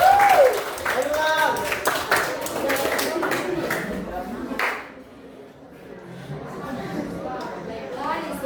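Classroom audience clapping in a short burst, with voices over it and fading into quieter chatter.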